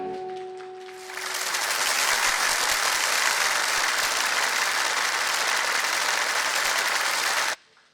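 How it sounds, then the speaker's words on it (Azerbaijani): Prolonged applause for İlham at a celebration, a loud, dense and steady wash of many hands clapping that starts abruptly after a voice and cuts off sharply near the end. "İlhamı bir sürəkli alqışlayaq"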